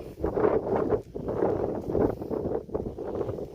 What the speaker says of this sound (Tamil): பாருங்க காற்றுல ஒவ்வொரு செடியும் தாளாட்டுது. அழகு. காத்து வீசுதே.